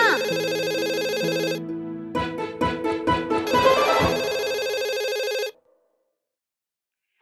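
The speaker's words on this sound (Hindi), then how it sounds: "फोन उठाओ ना।" A telephone rings with a loud electronic ringtone in a repeating tonal pattern, close by, then stops abruptly and silence follows; there is no talking.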